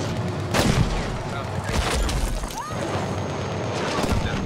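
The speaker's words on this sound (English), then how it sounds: "I don't know where they're all shooting from." Battlefield V online conquest match: rapid gunfire bursts and heavy explosion booms crowd together in a loud, chaotic battle, with a player talking over the combat.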